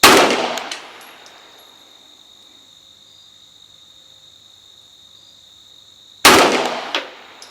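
Two loud gunshots from a CZ P09C pistol firing 124 grain Winchester NATO ammunition on an outdoor range, one at the start and one about six seconds later, each with a sharp crack and a ringing decay, separated by quiet steady insect chirping.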